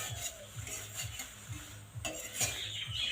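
Masala paratha made with atta fries in a pan while being pressed down, producing a soft repeated scraping rhythm over a low sizzle, close and steady with no voices.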